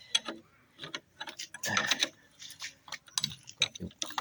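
A ratchet wrench clicks in short bursts while it loosens a bolt during an oil seal replacement, with the sharp ticking coming in uneven clusters close to the listener.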